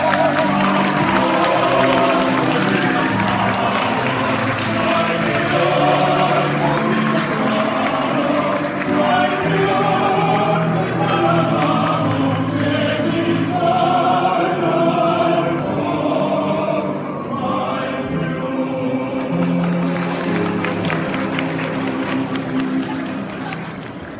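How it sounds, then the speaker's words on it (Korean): Wedding guests clap and cheer steadily for the groom's entrance, a dense, loud crowd applause that runs the whole time, with voices and music mixed underneath. "신랑이 입장하면 하객 여러분들 큰 박수와 환호로 맞이해주시기 바랍니다"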